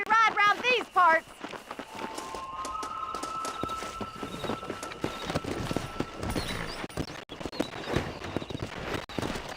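Horse hooves gallop in the Western video game Red Dead Redemption, a steady drumming run that follows a short, high horse whinny at the start, with a voice briefly over the riding.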